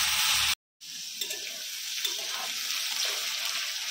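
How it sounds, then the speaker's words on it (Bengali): Oil sizzles steadily in a pan as it is stirred ahead of the potatoes going in, after a brief silent gap near the start, with scraping touches over the constant crackle. "কিছুক্ষণ একটু ভাজা ভাজা করে নেব, তারপরে আমি আলুটা দেবো এটার মধ্যে।"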